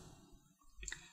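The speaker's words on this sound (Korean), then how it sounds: "선의 끝점 두 군데 클릭 해주시고 마우스 오른쪽 버튼 눌러주시면" A computer mouse button gives a couple of quick, faint clicks near the end of a quiet moment during drafting work in pattern-making CAD software.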